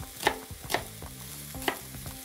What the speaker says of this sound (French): Pendant que mes cèpes cuisent, je vais ciseler mes échalotes.